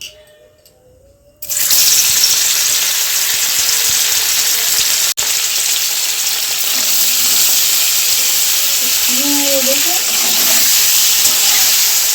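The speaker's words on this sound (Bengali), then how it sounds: "এবার আস্তে আস্তে তেলে হালকা করে ভেজে নেব।" Paneer pieces drop into hot oil in a pan and set off a sudden loud, dense frying hiss that holds steadily near the mic, with one sharp click partway through and a faint voice underneath.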